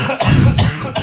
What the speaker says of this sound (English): Can you put that cough down? That's all I can hear.